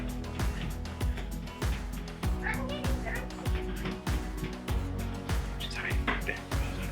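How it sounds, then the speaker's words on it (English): A new puppy yips, barks and whimpers repeatedly against a busy background with a steady rhythmic beat, and voices are heard in the mix. "Auntie Tina got a new puppy, and the kids are loving that"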